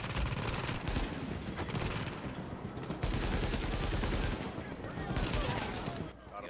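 Continuous heavy gunfire in a video game battle at Grand Central Station on hard difficulty: dense, rapid volleys from several weapons crackling almost without pause, loud and close, with faint voices underneath.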